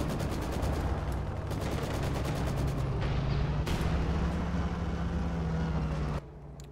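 Tank combat in a WWII real-time strategy game, with a Jagdpanzer tank destroyer firing its cannon amid the battle. Rapid rattling gunfire bursts and heavier booms sit over a steady engine rumble before cutting off abruptly near the end.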